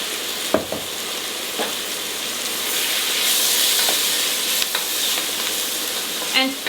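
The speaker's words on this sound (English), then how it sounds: "for literally 2-3 minutes we're gonna fry the sweet potatoes with the mushrooms" Sweet potatoes and mushrooms frying in olive oil in a pan, giving a steady close sizzle with occasional scrapes and taps from stirring.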